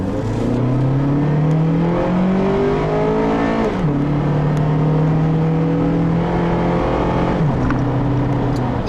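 A 2010 Honda CR-V engine and exhaust pulls loudly and steadily while driving, revving rises through the gears with a drop at each shift, up close.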